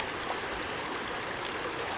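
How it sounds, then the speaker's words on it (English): Water streams over feet in a park, a loud, steady broadband rush and trickle close by with no break. "There's mad water."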